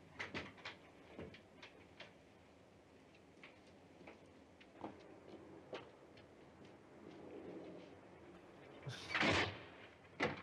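A window slams shut and its glass shatters in a 1977 horror film, a sharp loud crash with a bright burst near the end, following scattered knocks and thuds at moderate level.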